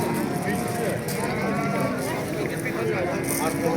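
Sheep bleat amid a busy livestock market in Namangan, overlapping calls over constant crowd chatter and background noise.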